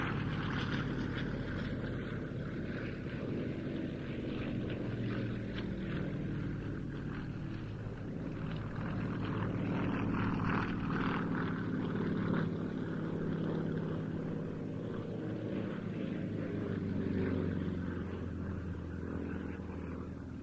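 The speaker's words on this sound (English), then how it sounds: "There's the surprisingly agile Yak 18T." A Yak 18T propeller aircraft flies at an airshow, its engine drone steady and moderately distant for the whole stretch, with wind rumble on the microphone and no talk.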